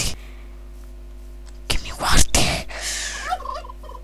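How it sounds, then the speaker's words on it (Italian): Turkeys gobble in a Minecraft video game, a short burst of loud, rattling gobbles after a quiet stretch, with a faint whisper-like voice and a steady low hum beneath. "Sì, i tacchini sono."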